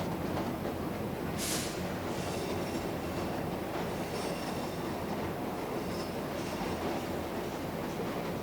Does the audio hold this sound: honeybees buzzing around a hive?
no